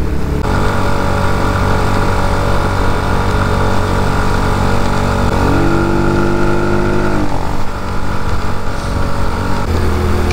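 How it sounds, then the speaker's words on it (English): The engine of an RPS Condor 250cc motorcycle fitted with a freer-flowing exhaust holds a loud, steady drone with close, harsh exhaust rasp, its pitch shifting midway as revs change. "A little freer flowing exhaust."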